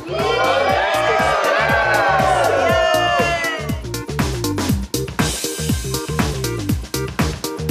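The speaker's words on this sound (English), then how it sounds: "Let's cheer for that, for the new Jose Eber in Las Vegas" A crowd cheers at the opening of a new Jose Eber hair salon in Las Vegas, with high whoops and squeals swelling up front, then settling into rapid, steady clapping and scattered shouts.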